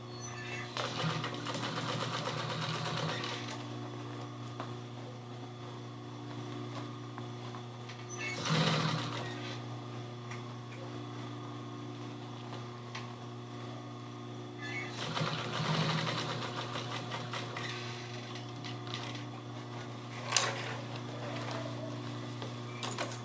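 A sewing machine topstitches the edge of a fabric cosmetic bag, running in steady mechanical bursts with short pauses between passes and faint handling noises.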